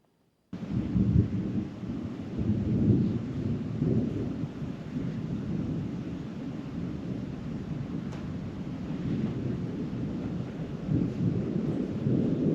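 Thunder rolls through a thunderstorm over an abandoned campground near a big meadow, a deep, continuous rumble with rain-like hiss that starts suddenly and keeps swelling and fading, with no voices.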